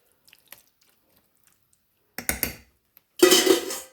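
Turkey casserole mixture being spread around a lightly sprayed casserole pan, with a few faint taps, then two bursts of wet squishing and scraping utensil sounds against the dish, the second louder.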